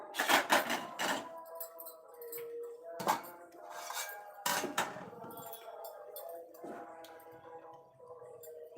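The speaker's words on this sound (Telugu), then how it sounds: "మూత పెట్టేసుకుందాం" A metal lid clinks onto a cooking pot of egg and fenugreek-leaf curry, giving several sharp ringing clanks with quiet gaps between them, near and moderately loud.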